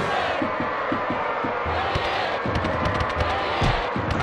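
A stadium crowd roars and boos after a foul whistle in a 1996 J.League match between Yokohama Flügels and Yokohama Marinos in Winning Eleven 97, a dense continuous crowd noise with thumping beats underneath.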